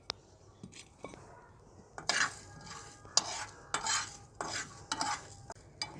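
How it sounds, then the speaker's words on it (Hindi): Whole spices roast dry in a pan over a village stove, giving a run of close scraping and rattling stirs with small clinks of seeds against metal in uneven bursts, with no talk. "ये सारे हम इसमें डालेंगे और 1 मिनट तक इनको रोस्ट करेंगे।"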